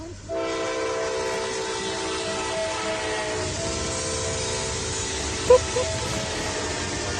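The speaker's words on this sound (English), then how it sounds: "That was the loudest train I've ever heard." A loud passing train sounds a long, steady blaring horn with layered tones, held close and continuous for several seconds over low rumbling rail noise, with a brief sharp knock near the end.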